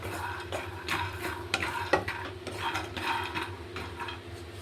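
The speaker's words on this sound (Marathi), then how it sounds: "शेंगदाणे असेच भाजून घ्यायचे" Peanuts dry-roasting in a pan for Solapur-style peanut chutney, with rattling, scraping strokes as they are stirred and tossed, quiet and close, over a low steady hum.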